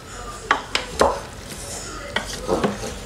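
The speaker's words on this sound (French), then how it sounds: "Essayez de touiller un peu." Beef for a bourguignon is stirred in a pot, with several clanking scrapes of a utensil against metal in an uneven rhythm over a faint background hiss.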